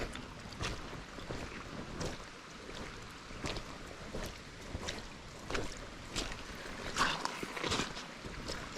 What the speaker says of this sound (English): Sounds like freshwater creek coming out here.